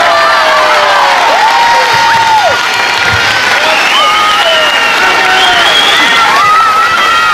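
A large crowd gives a sustained ovation of applause, cheers and whistles for footballer Dani Carvajal at a tribute in Leganés, loud and continuous throughout with scattered shouts rising above the roar.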